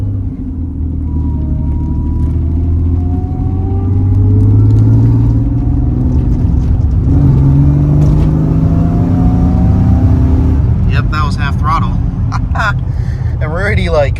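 Mercedes C32 AMG accelerating hard, a loud low engine drone whose pitch climbs steadily through gears, with a brief shift dip and someone talking over the engine noise.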